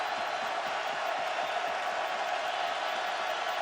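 A partisan Iowa crowd fills Kinnick Stadium during an Iowa Hawkeyes vs. Illinois college football game. It holds a steady, dense roar with no breaks from start to end.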